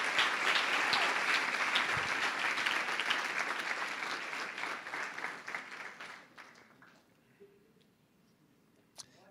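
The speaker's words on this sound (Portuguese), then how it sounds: "Aplauda o Senhor Jesus." Church congregation clapping in praise during a worship service, a dense sustained applause that gradually thins out and fades to near silence over its last few seconds, with a faint voice near the end.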